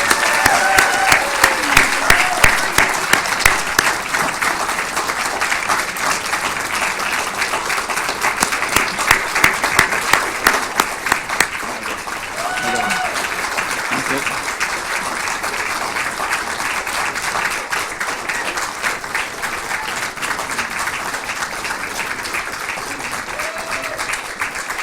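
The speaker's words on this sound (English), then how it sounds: "clap her hands." Sustained audience applause at an Irish-medium teacher education commencement ceremony, dense and steady clapping from a large crowd lasting throughout, loud and close with a few faint voices mixed in.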